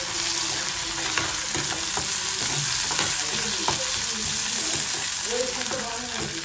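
Curry leaves hit hot oil for a sambar tempering, giving a steady, close sizzle with crackling pops and occasional stirring scrapes throughout.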